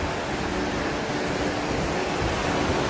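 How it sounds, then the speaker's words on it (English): Steady broadband wash of sea surf on a beach at Havelock Island, Andaman, a constant rushing roar of waves with no distinct breaks, heard alone without talk. "Oh, hear the sound of the seas."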